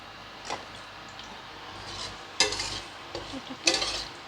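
Cumin seeds, two bay leaves and cinnamon dropped into hot oil for an egg masala curry, giving bursts of crackling sizzle at about 2.4 and 3.7 seconds over a faint steady hiss, close and moderately loud.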